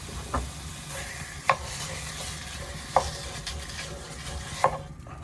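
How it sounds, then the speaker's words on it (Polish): Steady crackling sizzle of raw bacon frying in a pan, with a few sharp pops and clinks standing out above the continuous hiss. "Może boczek smażymy."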